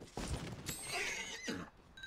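Horse neighing in Red Dead Online, a few close whinnies and snorts with faint hoof clopping, fairly quiet and alone.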